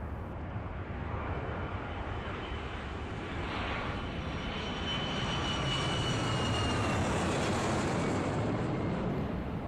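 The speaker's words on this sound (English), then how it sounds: "camera focusing through Lynch's apartment and watching planes land in a nearby airport" Steady, broad roar of jet airliners landing at a nearby airport in Kane & Lynch, a continuous rumbling wash that swells slightly louder toward the end, with no voices over it.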